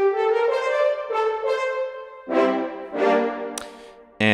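Two horns from the CineBrass brass sample library play short, detached articulations: a series of brief chords and notes, some clipped and some slightly held, with gaps between them and no voices.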